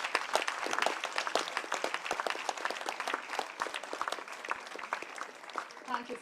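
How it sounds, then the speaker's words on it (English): A large audience at a Bengaluru community service event claps at length in a dense, steady wave of applause, the many claps overlapping and holding level across the whole stretch. "A huge round of applause, please."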